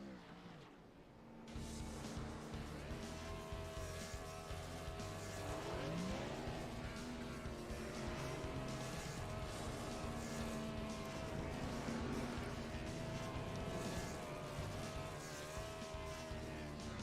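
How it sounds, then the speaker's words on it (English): Cup race cars spin donuts at Rockingham Speedway in a sim racing game, engines roaring loudly and continuously with rising and falling revs and tire squeal, starting after a brief quiet moment and running throughout. "the sound of these cup cars doing donuts is"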